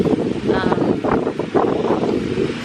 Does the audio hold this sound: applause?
no